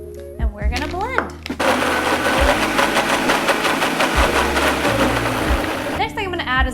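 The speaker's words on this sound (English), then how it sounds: "we're gonna blend" A kitchen blender whirs at high speed for about four seconds, a loud, steady grinding drone, with a person's voice heard briefly before and after it runs.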